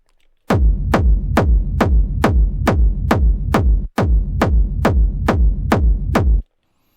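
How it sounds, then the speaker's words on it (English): A hard techno kick drum sample repeats alone at a steady fast pulse, about a dozen loud punchy thumps with booming low tails, one brief gap midway, then stopping. "It's a hard techno kick."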